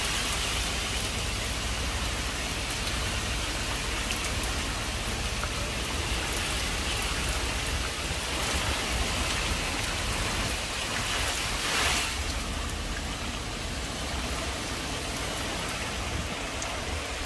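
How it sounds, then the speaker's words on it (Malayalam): Heavy rain falls continuously, a dense, steady hiss of drops on surfaces with no pauses, no voices, and no distinct single sounds standing out. "അങ്ങനെ നല്ല മഴ പെയ്തുകൊണ്ടിരിക്കുകയാണ്"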